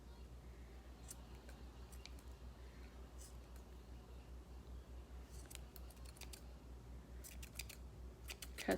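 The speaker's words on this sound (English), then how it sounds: "now those are some cruddy scissors" Scissors snip through small fabric pieces for making gnomes in a series of faint, sharp, irregular cuts close by, over a low background hum.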